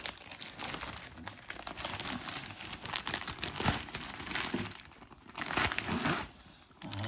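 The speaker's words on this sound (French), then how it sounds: "C'est pareil, je vais vous la déballer." Crinkly plastic packaging rustling and crumpling close up as a painted canvas is unwrapped, with continuous handling noise that swells and eases in bursts.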